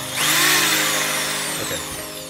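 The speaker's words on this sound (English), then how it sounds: "every time I use this drill, you can kind of see what happens." Power drill driving screws while assembling a 3D-printed robot dog, a loud, close motor whine that spins up quickly, holds steady and then slowly winds down.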